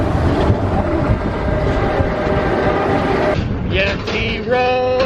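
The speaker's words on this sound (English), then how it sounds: "Here comes the train." A theme park train pulls in at Animal Kingdom with a loud, continuous rumble and rushing noise, then squealing tonal brake or wheel sounds rise near the end.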